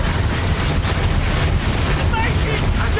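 A fire spell, Incendio, cast during combat in Hogwarts Legacy, heard as a dense, continuous roar of fiery blasts and booms, loud and close, with a voice talking over the effects.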